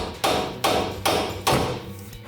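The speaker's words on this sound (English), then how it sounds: "and then tap on the knuckle with a hammer" Four sharp, evenly spaced metallic blows from a hammer striking an FJ Cruiser's steering knuckle during a leveling kit install, each a close, loud thud with a short ringing tail and no talk.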